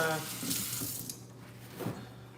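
A pot of boiling water is poured into a sink, running and splashing steadily for a couple of seconds and fading out, with faint talk mixed in.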